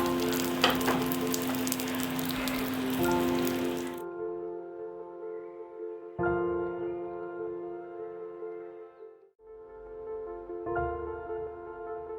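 Chicken for Lebanese shawarma sizzling in a lightly oiled pan, a loud dense frying hiss for the first four seconds, then quieter crackling and bubbling with a steady hum, close and without talking.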